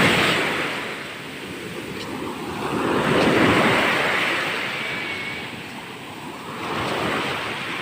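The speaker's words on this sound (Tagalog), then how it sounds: "So, ang lalaking alon to" Big ocean waves breaking and surging onto a surf beach, a continuous roaring wash that swells and recedes in slow cycles, with wind buffeting the microphone and no voices.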